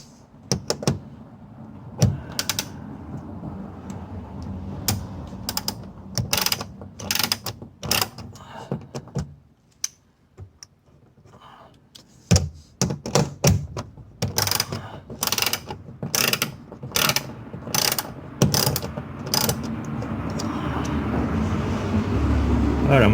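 Ratchet wrench backing bolts out of a 2002-2010 Lexus SC430 door, with bursts of rapid clicking and rattling close by, broken by pauses, handling noises and occasional talk.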